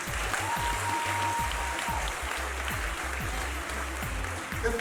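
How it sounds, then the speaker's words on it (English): Audience applause for graduating pupils at a primary school graduation ceremony, steady clapping sustained across the whole stretch with a low rumbling hum underneath. "I invite all our friends and well-wishers to give them a round of applause they have made it"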